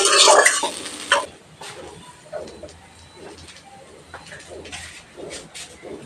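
Taro flowers (kochur phul) cooking in a pan, with stirring scrapes and a loud hiss at the start, then quieter intermittent sizzling and clinks.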